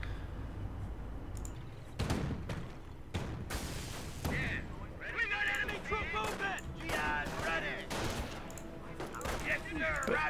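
Battle gunfire in the WWII strategy game Company of Heroes at Montebourg, with scattered shots and bursts at mid distance, some heavier booms, and voices talking over the combat.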